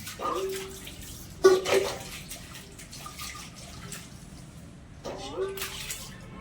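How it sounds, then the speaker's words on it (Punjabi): A tea-blackened brass pot is washed under running water, with bursts of splashing tap flow and clinking handling close by, while someone talks over it. "ਚੰਗੀ ਤਰ੍ਹਾਂ ਧੋ ਲੈਂਦੇ ਆਪਾਂ"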